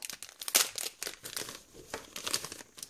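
Plastic wrapping crinkles and tears as a small Daiso store product package is ripped open up close, a busy run of rustling bursts with no talk over it.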